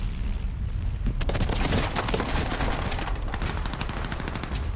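Machine guns rattle in a dense, continuous burst of rapid fire along a World War I front line at the Somme, loud and close, with booming rounds underneath the chatter.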